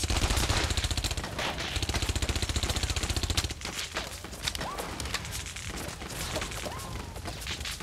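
Video game gunfire from The Saboteur, with rapid machine-gun bursts hammering loudly for several seconds and then thinning into scattered shots over a busy background.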